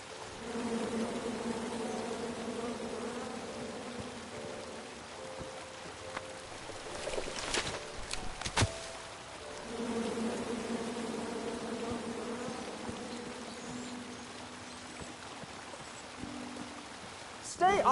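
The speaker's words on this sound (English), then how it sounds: "Come at me, bees!" Bees buzz in a steady droning hum in the video game King's Quest, moderately loud and continuous with a brief break midway and some faint background noise.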